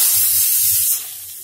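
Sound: grated carrots added to a hot pan for gajar ka halwa

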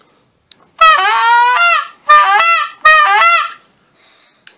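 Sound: tube goose call being blown

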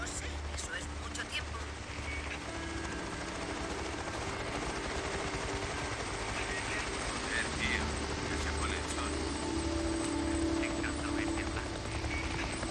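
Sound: helicopter in the video game Days Gone

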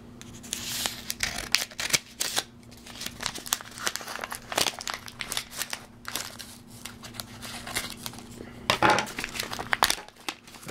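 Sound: cutting open a paper envelope

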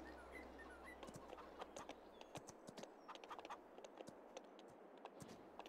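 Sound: horse hooves in Farming Simulator 22 video game

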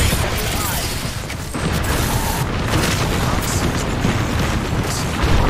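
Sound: thermite grenade thrown and exploding, from the video game Apex Legends

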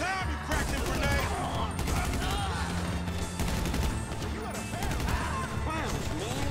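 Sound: grenade explosion and gunfire in video game GTA V

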